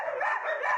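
A dog from a Yakutian shelter rescue barking, a couple of close, loud, tonal barks and yips in quick succession with no speech over them.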